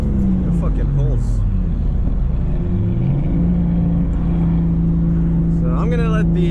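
Mazda RX8 with a swapped 2JZ engine and CD009 six-speed transmission, heard while driving as the engine note rises and falls through accelerations and shifts, loud and close inside the car, with voices talking over it.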